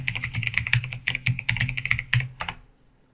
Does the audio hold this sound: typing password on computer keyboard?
yes